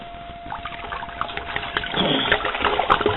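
Liquid pours and gurgles out of a glass bottle being cleaned with bottle brushes and BBs, a close trickle that thickens into a heavier, splashing glug partway through.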